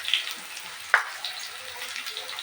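Chopped onions frying in hot oil with a little salt, giving a steady crackling sizzle with a few sharper spatters and a scrape at about one second; no voices.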